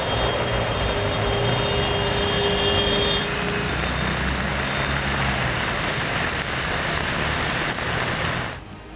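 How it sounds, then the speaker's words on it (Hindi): Heavy rain pours down during severe monsoon flooding in India, a dense, steady, close roar of water with no voices, cutting off abruptly near the end. "तेज बारिश क्रोध बनकर कहर बरपा रही है।"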